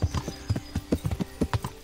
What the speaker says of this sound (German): Denn wir reiten wieder durch den Wald.